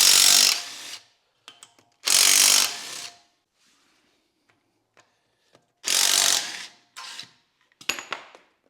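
Ratchet and hand tools loosening the brake backing plates on a VW Golf 2 rear beam during a drum-to-disc conversion, with several bursts of rapid clicking ratcheting separated by quiet gaps and small metallic clinks.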